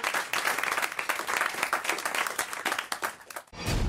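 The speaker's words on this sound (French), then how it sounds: "on vous applaudit" Lively studio audience clapping on a radio show, loud and sustained with uneven bursts, then cut off abruptly near the end by a short, different sound.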